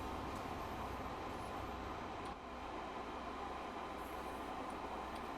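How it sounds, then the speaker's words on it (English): A steady rail rumble fills Train Sim World 2 on the West Cornwall Local route, on a steep gradient, with a steam locomotive's chuffing far off and soft under continuous train noise. "It's a very unique distant chuffing."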